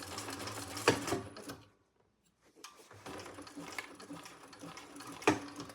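A sewing machine runs top stitching on a Jeanniebag shoulder bag in steady mechanical bursts, pausing briefly in the middle before starting up again, with a few sharp clicks along the way.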